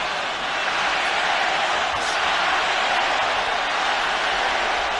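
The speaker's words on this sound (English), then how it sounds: "Crowd are getting into it. They're loving every single moment of this." A large boxing arena crowd roars during the Canelo Alvarez vs Gennady Golovkin fight, a steady, loud wash of cheering and noise that holds evenly throughout.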